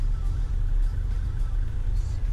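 Low, steady rumble of road traffic heard from inside a vehicle in Manila traffic between Cavite and Makati, a continuous muffled drone.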